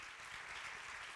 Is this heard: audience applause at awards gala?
yes